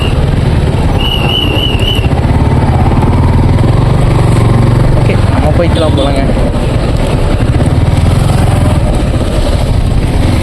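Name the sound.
motorcycle engine running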